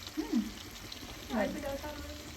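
Chow mein frying in a pan as soy sauce is added, giving a steady soft sizzle with brief louder hissing swells, close by, under faint background noise.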